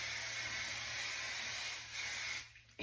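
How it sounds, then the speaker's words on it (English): Flexible hairspray hisses from an aerosol can in one continuous spray, close and steady, cutting off near the end. "hairspray"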